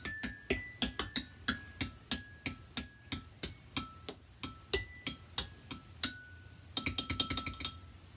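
Glasses tuned to different notes and struck as a pitched percussion instrument, a quick run of about twenty sharp, ringing taps with short bright tones, ending in a fast cluster of strikes.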